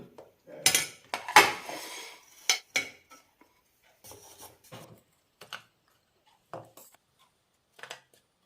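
Homemade Kerala honey candy (thaen mittayi) is moved onto a plate with utensils, giving a series of scattered metallic clinks and scrapes, some louder and close, separated by quiet pauses, with no talking.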